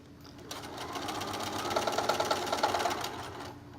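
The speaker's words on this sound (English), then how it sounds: "So you can start here, sew over, down, all the way over, and up, and stop here." A sewing machine stitches a lining seam on a zipper case, a close, steady mechanical whir that builds up and then slows toward the end.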